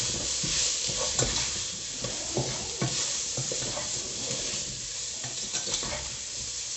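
A spoon scrapes and stirs repeatedly through beef bourguignon in a pot as flour is worked in, irregular close strokes over a constant low sizzle.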